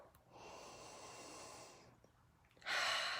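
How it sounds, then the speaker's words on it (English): A person breathing in through the nose, giving a long airy inhalation, then a pause and a louder, harsher sniffing breath at the end, close and without speech. "So then I'm going to breathe through my nose."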